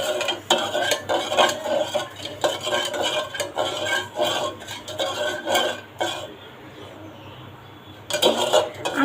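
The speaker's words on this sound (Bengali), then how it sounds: "আর এটা আমি নেড়ে নিব।" Milk sweetened with sugar is stirred in a pot, a spoon scraping and clinking against the metal in steady repeated strokes, close and fairly loud, with a quieter pause near the end before the stirring picks up again.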